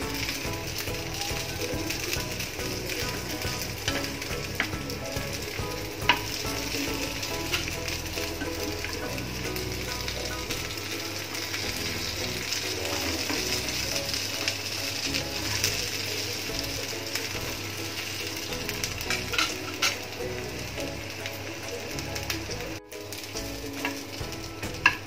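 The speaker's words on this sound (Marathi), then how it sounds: "आता बाकीचे आपण अशाच करून घेतोय शॅलो फ्राय." Taro leaf rolls (alu vadi) shallow frying in oil in a pan produce a long, even sizzle with occasional stirring clatter, close and steady throughout.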